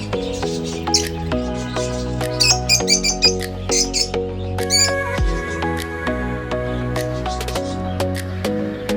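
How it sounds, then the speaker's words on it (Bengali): A lively, noisy pet lovebird chirps and squeaks repeatedly in bursts, close and clear, over a steady tonal background hum. "একটি লাভ বার্ড আছে, সারাদিন কিছু করতে থাকে, একটু চঞ্চল প্রকৃতির, রাগী, খুবই শব্দ করা একটি পাখি।"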